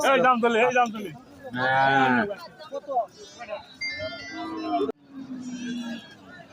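Cattle at a livestock market moo repeatedly, several loud drawn-out calls from close by, separated by short pauses, amid market background noise.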